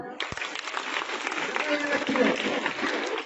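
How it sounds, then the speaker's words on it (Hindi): Steady applause from a group of students at a girls' higher secondary school, clapping continuously for a few seconds with voices mixed in underneath. "बजाओ ताली इसको।"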